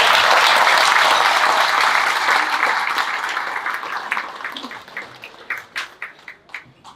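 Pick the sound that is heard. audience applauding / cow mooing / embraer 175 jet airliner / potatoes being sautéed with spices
audience applauding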